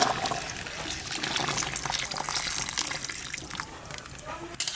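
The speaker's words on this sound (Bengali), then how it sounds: "এখন গরম জল দিয়ে দেবো।" Hot water poured steadily into a pot of duck curry, a continuous close splashing gush lasting several seconds with a slight clatter near the end.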